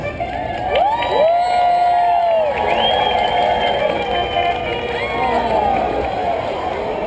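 A big crowd at a pig race cheers and whoops loudly and continuously, with shouting voices rising and falling over a broad roar.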